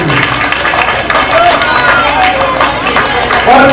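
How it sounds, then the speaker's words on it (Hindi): A crowd at a closing ceremony of a teaching camp at Shivaji Park, Shahdara applauds a small child, dense rapid clapping sustained evenly and fairly loud, with murmuring voices mixed in. "जोरदार तालियां बजाएं एक बार बच्चे के लिए"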